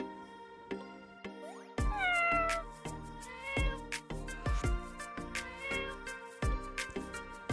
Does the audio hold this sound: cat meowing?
yes